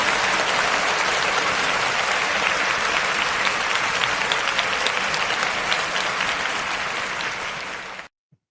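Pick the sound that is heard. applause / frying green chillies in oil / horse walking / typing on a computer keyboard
applause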